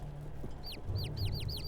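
Chickens in the Niffelheim video game cluck in a quick run of short, high calls over a steady low background hum.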